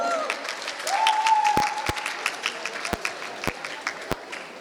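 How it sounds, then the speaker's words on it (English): An audience at a women's council community event claps warmly, a moderate round of applause from a room of people with a few sharper claps standing out, over a faint voice and tone early on. "So please give a big round of applause to all the men in the room."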